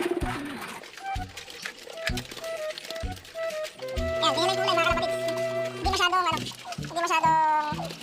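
Pigeons coo in soft, repeated throaty calls that overlap one another at close range, with a person's voice heard at times.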